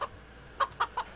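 Short clucks from a chicken in the video game Chkn, three quick mid-pitched clucks in a row after a faint opening one, fairly close and clear, with no talking over them.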